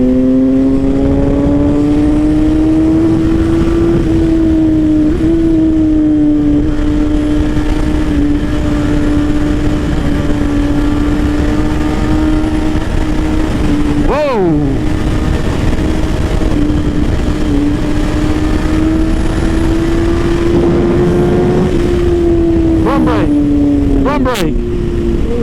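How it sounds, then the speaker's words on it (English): A motorcycle cruises on a highway with a loud, steady engine drone whose pitch wavers gently as speed shifts. Wind noise runs underneath, and sharp whooshes of passing traffic come near 14 and 24 seconds. "So yeah, so we're on the highway now."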